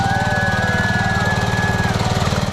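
A ride-on lawnmower engine runs steadily and close, with a rhythmic low chug and a whining tone that holds, then fades near the end, with no speech.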